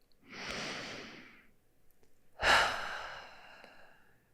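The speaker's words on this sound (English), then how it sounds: "Can you just take a deep breath into that with me?" Two slow, deep breaths follow one another, an inhale lasting about a second and then a stronger, sighing exhale, close and quiet with no talking.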